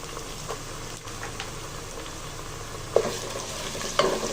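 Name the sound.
garlic and ginger paste frying in mustard oil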